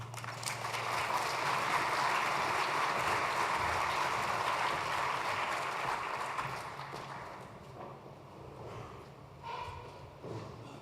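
An audience applauding as a general is welcomed onto the stage, a broad sustained clatter of clapping that fades toward the end, with scattered voices in the hall.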